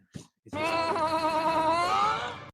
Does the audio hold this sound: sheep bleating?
yes